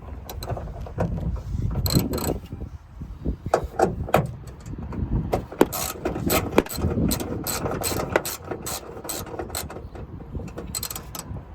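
Metal bonnet raiser bolts being tightened on a Honda Civic EG, with repeated short ratcheting clicks and scraping taps in uneven bursts, close by and moderately loud, without speech.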